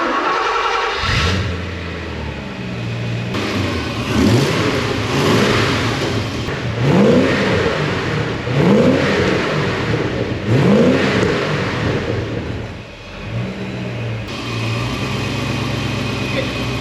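A Porsche 928 S4 V8 engine cranks, catches and idles, then revs repeatedly in rising and falling surges before settling back to a steady idle.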